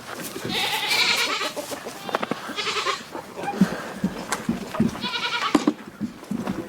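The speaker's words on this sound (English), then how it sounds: "this is a good chance for Shelby to be around the chickens and the goats while we're around" Several farm goats bleat close by, their calls overlapping in a few drawn-out cries among chickens, with soft rustling and scattered knocks between calls.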